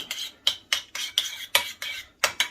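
A spoon stirring cheese sauce with buffalo wing sauce scrapes and clinks against a bowl in quick, uneven strokes, about ten short bright taps up close.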